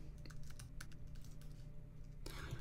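Quiet keystrokes on a Mac keyboard as a command is typed in a terminal, a quick run of close, soft clicks with a brief louder burst at the end.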